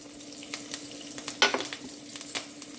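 Curry leaves sizzling in hot oil with crushed garlic for a spiced egg snack, a steady close crackle with a sharp burst of spitting in the middle and lighter pops after.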